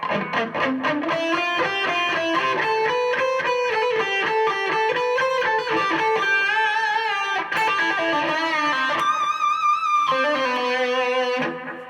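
Lead guitar solo: phrases with bending, wavering notes, sustained tones and a pinch harmonic, played continuously and loud with no voices.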